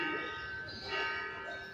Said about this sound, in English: some church bells from the Catholic Church in San Pedro, La Laguna, Lake Atalan, Guatemala